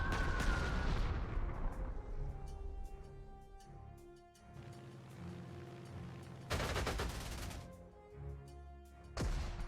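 Artillery bombardment in the wartime strategy game Panzer Corps 2, heavy booming shell blasts and rattling volleys in several bursts, loud and close with ringing tails between them.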